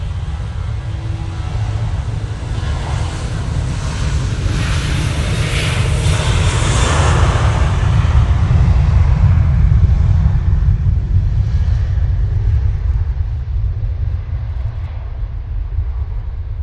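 An airliner arriving from Bucharest on short final at Manchester Airport gives a steady, loud broadband engine roar that swells toward the middle and holds throughout, with no talking.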